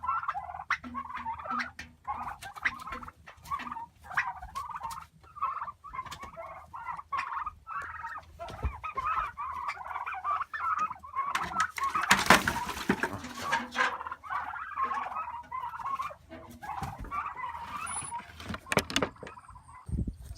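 Turkeys gobble again and again in rapid, overlapping bursts, close and loud, mixed with clattering knocks of handling and crates.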